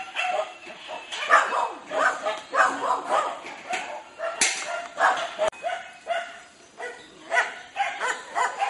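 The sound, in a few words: rescued dogs barking at the dinner cart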